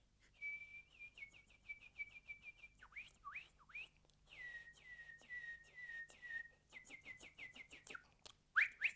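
A man whistles an imitation of a canary with a nightingale-like song, producing rapid repeated trills, sliding whistles and short chirps in bursts, fairly faint and close, with no talk during it.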